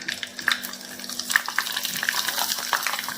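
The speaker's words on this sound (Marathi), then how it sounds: "याच्यामध्ये मी तुम्हाला पापड तळून दाखवते." Sorghum papad frying in hot oil: a soft, steady crackle with small bubbly pops throughout, close and moderately quiet, with no talking.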